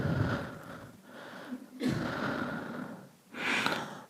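A person imitates panting with breathy, wheezing huffs in several long, rough breaths, close and fairly quiet.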